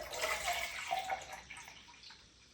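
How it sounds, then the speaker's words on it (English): Water poured into an empty tomato sauce can while making chili, a brief splashing pour that fades toward the end, soft and close. "And then I fill it up again with water."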